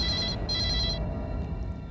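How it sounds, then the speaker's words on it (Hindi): A telephone rings in two bursts of bright electronic trilling, the second after a short gap, followed by quiet room tone with no voices. "Come on, pick up the phone"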